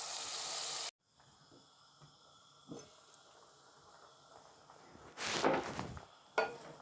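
Shrimp frying in a pan gives a loud sizzle at first that cuts off abruptly, followed by a faint hiss with scattered clinks and stirring sounds, then renewed bursts of sizzling.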